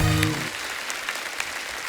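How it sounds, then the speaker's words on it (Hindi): Studio audience applause on The Kapil Sharma Show, a TV comedy programme: a steady wash of clapping that follows a brief voice at the start and holds at an even, moderate level to the end. "जोरदार तालियां हो जाए।"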